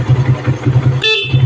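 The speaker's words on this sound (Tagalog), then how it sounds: "Stock horn." The stock horn on a Suzuki Raider motorcycle gives one short honk over the steady, throbbing putter of the idling engine.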